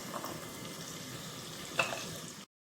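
Spiced masala sizzling and frying steadily in a pan while a Nepali-style meat pickle is prepared, a continuous close crackle with a brief clatter near the end before it cuts off.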